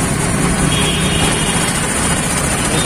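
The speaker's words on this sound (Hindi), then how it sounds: "तो ये गाड़ी स्टार्ट हो चुकी है" A scooter engine idles steadily just after being started cold, a loud, continuous close-up rumble with no speech.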